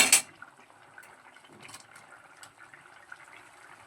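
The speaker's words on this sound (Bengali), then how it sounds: "এবারে আমরা ভেজে রাখা বড়াগুলো দিয়ে দেব।" Fried matar dal fritters for a Bengali sour dish drop into a pot of simmering boiled vegetables with one quick close splash, followed by faint, low bubbling and soft liquid movement.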